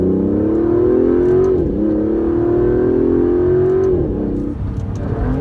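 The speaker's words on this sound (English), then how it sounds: "if you really floor it, you can feel the turbos kick on" An Aston Martin DB11 accelerates hard under full throttle, its turbocharged engine droning loud and close, with the pitch climbing steadily and dipping briefly at two gear changes before rising again.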